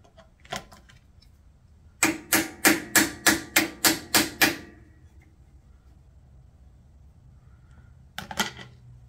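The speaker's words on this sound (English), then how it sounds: "Gonna need a bigger hammer." A hammer strikes an old Craftsman riding mower in a burst of eight sharp, evenly spaced metallic blows. A few isolated knocks come before the burst and a short cluster after it, against a quiet background.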